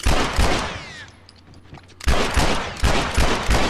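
Automatic gunfire from a third-person shooter video game, The Last of Us multiplayer, bursts loudly at the start, then falls away to a quiet lull before more rapid shots and impacts resume near the end.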